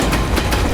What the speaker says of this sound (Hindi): ट्रेन की आवाज